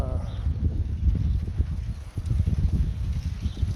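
Steady clip-clop of hooves from a trotting horse pulling a buggy, a rapid even rhythm of soft low thuds continuing throughout.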